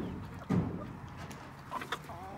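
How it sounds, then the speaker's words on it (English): Chickens cluck near a farmyard feeding spot, a soft burst of clucking rising briefly and then a few quieter calls trailing off, fairly faint overall. "Then the crowd of chickens comes and tries to beat her."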